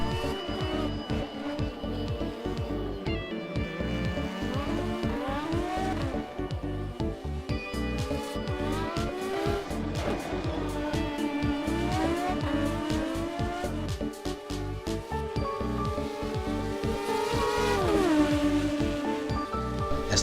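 Formula Renault race cars lap the Monaco street circuit in rFactor, engines droning continuously with rising and falling pitch through gear changes, one car close and loud.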